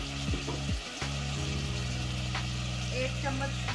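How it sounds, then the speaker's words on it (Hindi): Tomatoes and salt tipped into a pan of spices frying for a daal mash dish give a steady, close hiss and sizzle, with a brief clatter as they land. "अब हम इसमें डालेंगे 2 टमाटर, हस्बे ज़रूरत नमक"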